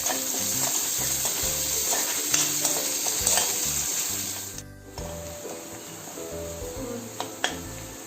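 Hing and curry leaves fry in hot oil for moong usal, giving a steady crackling sizzle with scattered pops and soft scraping stirs; no one speaks.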